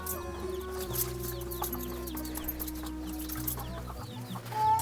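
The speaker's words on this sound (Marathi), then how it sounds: "ही काय कोंबडी वगैरे आहे" A chicken in a village clucks repeatedly in a steady, close series of short calls, with faint background sounds and no clear talk.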